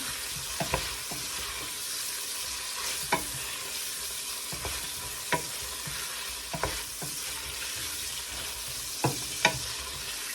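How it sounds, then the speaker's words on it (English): Egusi seeds and meat frying together in a pot during village cooking in Nigeria: continuous crackling sizzle with regular scraping strokes of a spoon stirring every second or so, close and fairly loud, no talking. "So adding in our egusi. We want this to cook well. And our meat also. I'm gonna add them both right now."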